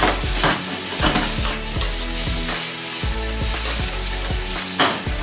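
Bacon and onion frying in a pan, a dense continuous sizzle with crackling pops, punctuated by repeated scraping and stirring knocks as the mixture is moved around, close and loud.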